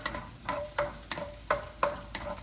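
Chopped garlic sautés in a pan for a sardine pasta, heard as a soft sizzle broken by about eight rhythmic scraping strokes of a utensil against the pan, close and fairly quiet.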